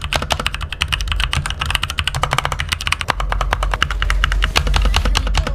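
Fast, steady clacking comes from typing on an AJAZZ NK61 mechanical keyboard, with rapid close keystrokes in an unbroken run and a few louder thocks mixed in.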